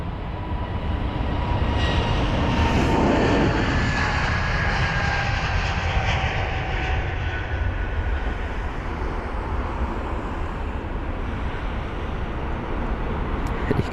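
A Brussels Airlines Airbus A320neo jet taking off from London Heathrow, a loud, steady broadband engine roar that swells early and then holds a sustained rushing drone, close and continuous with no talking.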